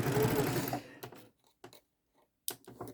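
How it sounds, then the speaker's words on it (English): A sewing machine restitches a quilt seam with a rapid, close mechanical whirr that stops after under a second, followed by a few sparse clicks and handling taps. "I'm going to go back up here and restitch that section"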